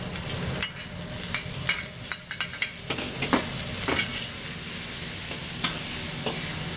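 Ginger, garlic and onion frying in a pan for pork chow mein, giving a steady close sizzle with scattered sharp spatula scrapes and stirring clicks, no voices.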